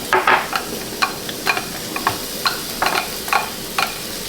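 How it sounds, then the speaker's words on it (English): Onions frying in a pan, a close, steady sizzle broken by quick scraping stirs at an uneven beat, with no speech. "So we're gonna add onions,"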